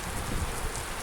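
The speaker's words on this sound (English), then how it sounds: "it's just the rain bouncing off the bins here" Heavy thunderstorm rain splashes and bounces off bins nearby, a dense, steady patter with no pauses across the short stretch.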